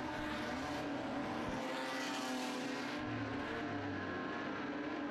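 Modified sedan race cars, including a Mercedes-Benz, lapping Murray Bridge clay speedway, with a loud sustained engine roar that rises and falls as the cars sweep past.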